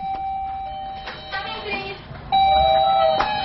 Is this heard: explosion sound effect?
no